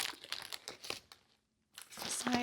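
Tissue paper from an Erin Condren planner box crinkles and rustles during unboxing, in close bursts of crumpling that stop for a brief silent pause and then resume.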